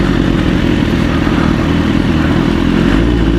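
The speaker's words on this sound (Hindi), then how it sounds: "सुपर बाइक्स आज डर्ट बाइक्स बन गई हैं" A superbike engine roars loud and close while off-roading on desert ground near Rungpur, a sustained rough throbbing growl that holds steady for a few seconds.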